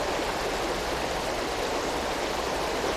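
A river current flowing outdoors, a constant broadband rush of moving water, steady and fairly close, with no voices over it.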